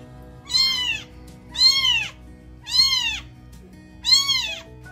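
A bottle-fed rescue kitten without its mother meows four times at regular intervals, each call loud, close and rising then falling, with quiet handling noise between the cries.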